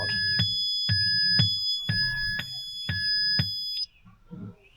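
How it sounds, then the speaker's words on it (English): A phone alarm goes off nearby while someone sets up a SIM card on an Amflow PX e-bike with a DJI Avinox drive, sounding as loud, repeated double beeps in a steady rhythm that stop abruptly near the end. "That is my alarm for some reason."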